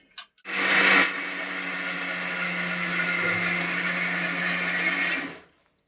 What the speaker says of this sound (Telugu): ముందుగా ఉద్దిపప్పు మిక్సీకి వేసుకుందాం